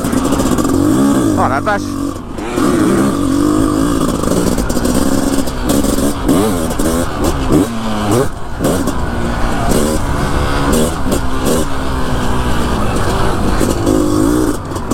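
500cc CR motocross motorcycle engine revving and rising and falling hard as it rides over deep ruts on rough terrain, loud and close throughout, with a man exclaiming over it.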